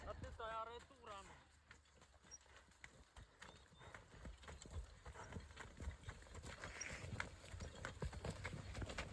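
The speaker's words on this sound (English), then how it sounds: "We have this mama horse who's come with her baby" A mare and her foal walk over ground beside an irrigation trench in a young food forest, their hooves clip-clopping steadily and close by after a brief whinny at the start.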